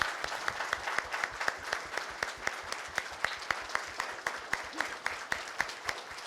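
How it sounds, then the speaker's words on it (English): A steady burst of applause from an audience at a school board of education meeting honours elementary school students and staff, with sharp, dense clapping sustained throughout and no talk. "we want to give a great big round of applause to Knoll Elementary for our students and staff with us"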